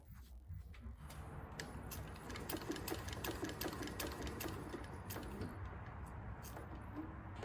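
A JUKI LS 1341 walking foot sewing machine stitches steadily, a continuous close mechanical whir with rapid needle clatter running the whole time at an even loudness.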